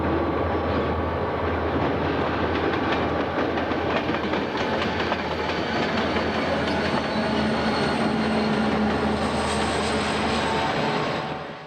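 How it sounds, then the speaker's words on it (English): A freight train with a five-unit set of helper locomotives rumbles past continuously at Bealville, wheels clattering and occasionally squealing, with heavy diesel locomotive drone throughout and no voices. "A 5-unit set of helpers drops down into Bealville to cut into the train"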